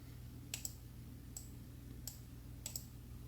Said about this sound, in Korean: 클릭하고 자동 합계를 누르고